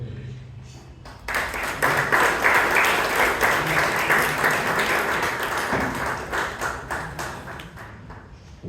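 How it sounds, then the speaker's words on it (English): Audience applause at a Toastmasters club meeting in Bangalore, a dense burst of clapping that swells suddenly and stays loud and sustained for several seconds before thinning near the end, with a faint voice underneath at first. "Can we have another huge round of applause"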